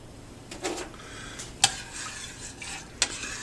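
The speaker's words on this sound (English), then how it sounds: "So we're just going to mix it a little bit." Homemade liquid laundry soap stirred in a pot over medium heat, a soft scraping swish with a couple of sharp utensil taps against the pot, close and fairly quiet.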